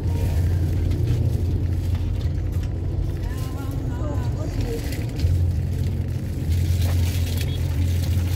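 A car drives along a northbound highway in Cebu, giving a steady low road and engine rumble that runs the whole way through, loud and close, as if recorded from inside the vehicle.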